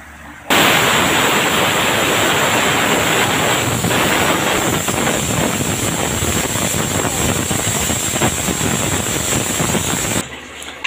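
Steam blasts steadily from a pressure cooker as its whistle is lifted after cooking mutton curry, a loud, continuous hiss lasting about ten seconds before cutting off.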